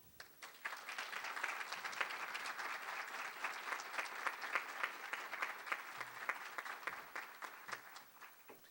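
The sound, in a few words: applause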